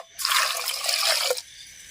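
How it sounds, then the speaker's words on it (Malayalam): Water is poured into a pot of mango curry, a steady splashing stream about a second long that stops abruptly, close and fairly loud. "അത്രയും വെള്ളം ഒഴിക്കാം"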